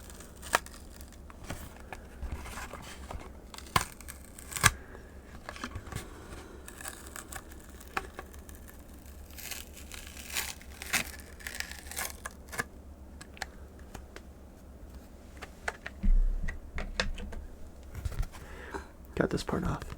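Hot Wheels toy car packaging is torn and pulled open up close, with continuous crinkling, scratchy rips and scattered sharp snaps over twenty seconds in a quiet room.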